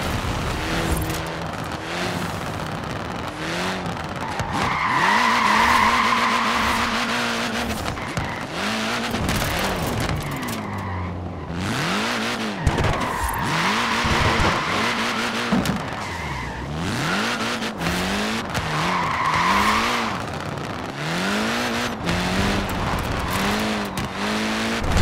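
Mini tyres squealing and skidding in Forza Horizon 4, repeated screeching slides with swooping engine revs over a steady car roar, loud and close throughout.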